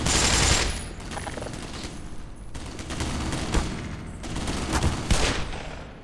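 Gunfire in the video game Black Mesa rattles almost continuously at close range, with bursts and single loud cracks layered over a dense, noisy battle din.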